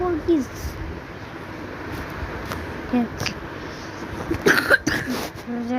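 Someone with a cold coughs a few times, short harsh bursts near the microphone, mixed with talking and throat clearing.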